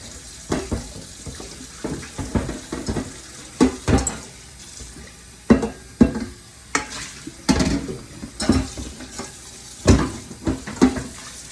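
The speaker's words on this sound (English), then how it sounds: "Rinse it out." Tap water runs in a kitchen sink while a mixing bowl is rinsed out after cake baking, with irregular splashing bursts and clattering surges, close and moderately loud, no talking.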